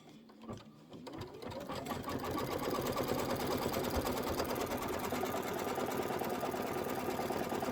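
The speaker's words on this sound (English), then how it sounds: "I'm going to do a tack down." A Kimberbell embroidery sewing machine stitches a tack-down line on the Candy Corn Quilt Shoppe wire dress form design. A steady, fast mechanical stitching rhythm starts after a second and keeps running evenly, close and moderately loud, with no talking.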